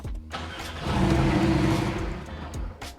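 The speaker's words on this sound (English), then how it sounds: "the vehicle will start and then shut down if you don't put the pin in" A car engine fitted with an Igla immobilizer pin-code lock cranks and starts, roars steadily for a couple of seconds, then falters and cuts out as the lock kills it; close and fairly loud, with no talking.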